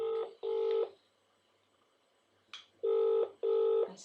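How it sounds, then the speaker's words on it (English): Telephone keypad tones from a phone menu, with the 5 key pressed: short, clear electronic beeps in pairs, two, then a pause, then two more, fairly quiet and alone. "So I'm pressing 5 to get to reception."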